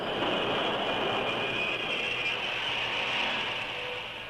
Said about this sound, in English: At 6 o'clock, the train reached Richland.